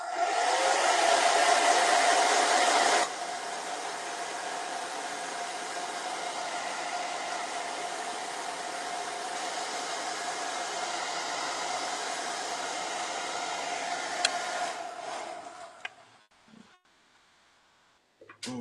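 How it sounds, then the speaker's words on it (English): A hair dryer blows steadily and loudly, louder at first, then shuts off and winds down into near silence. "I am going to hair dryer this, so it's going to get loud for a second."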